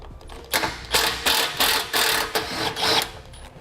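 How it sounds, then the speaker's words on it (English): A ratchet wrench loosens 10mm core support bolts on a 2013 car, making close, loud bursts of rapid clicking in about seven even strokes. "Now we're going to remove the remaining bolts for our core support."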